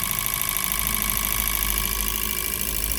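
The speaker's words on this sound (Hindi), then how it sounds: "950 RPM पे ये ऑन टेबल फायरिंग हो रहा है।" Maruti Ritz petrol engine running at a steady 950 RPM idle on an ECM test bench, a continuous, even mechanical hum with a fine rapid pulse, close and unchanging throughout.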